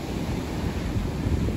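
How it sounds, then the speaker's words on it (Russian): Stormy sea waves break and wash on the shore in Sochi, a steady loud rush of surf mixed with wind buffeting the microphone. "волны доходят аж до сюда"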